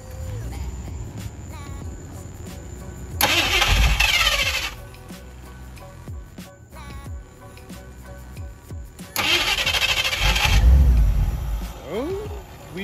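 A Ford Ranchero engine cranks after starting fluid is sprayed in, two loud bursts of turning over with some catching, separated by quieter handling noise and background speech.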